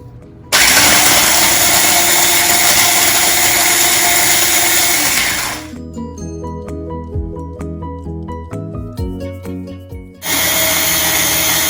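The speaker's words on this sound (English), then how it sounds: "And we're going to do so in our food processor." A food processor crushing graham crackers runs as a loud, steady motor whir for about five seconds, then switches to uneven rattling and clattering pulses before roaring back to full speed.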